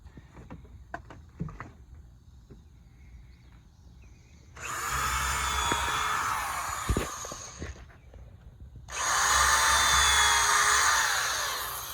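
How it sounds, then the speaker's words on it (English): Two loud bursts of a power drill whirring up close, pre-drilling holes in deck boards, a few seconds each, separated by a short pause. "I still pre-drill my holes just because I don't want a split"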